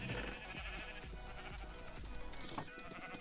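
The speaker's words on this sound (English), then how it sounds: "Oh, look at the more sheep now." Sheep in the Minecraft video game bleat again and again in a steady, overlapping series, fairly loud and up close, against faint game background music, with no voices.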